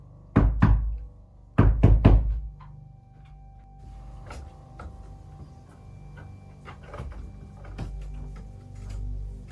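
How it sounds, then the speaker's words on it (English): Heavy knocks sound from inside a wooden wall at a campsite: two loud close pairs of bangs early on, then quieter scattered thumps and ticks in a hushed setting. "harsh scratching and heavy banging erupt from inside a wooden wall"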